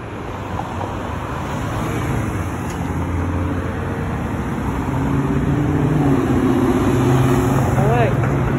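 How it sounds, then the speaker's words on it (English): Heavy rush-hour road traffic on Lakewood Blvd, a dense continuous roar of passing cars that builds gradually and stays loud throughout, with a faint rising whine near the end. "This is rush hour because this is a lot of traffic right now"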